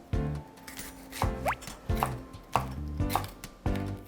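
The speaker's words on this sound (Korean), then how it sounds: "그래서 가늘게 채 썰어주세요." A knife slices bell pepper into thin julienne strips on a cutting board, giving about seven sharp, evenly spaced chops with short pauses between them, close and fairly loud with no talking.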